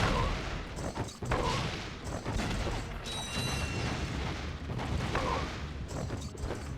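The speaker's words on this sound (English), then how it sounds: "Thank goodness my own explosions don't hurt me." Explosions and mechanical clanks from the Astro Bot video game, a dense continuous burst of booms and crackling with a few bright metallic tones, loud and steady throughout without speech.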